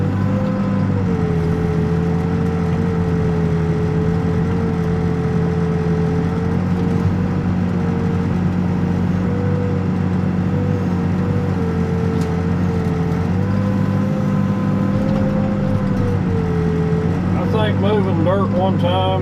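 A diesel excavator digging a hole in the ground drones steadily nearby, its engine pitch dipping and rising under load, with a voice talking over the machinery.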